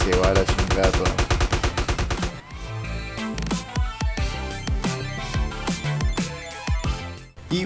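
Gunfire in GTA San Andreas with a recoil mod: a rapid automatic burst first, then a string of loud, sharp single shots at irregular intervals, close and punchy, with a voice talking over part of it.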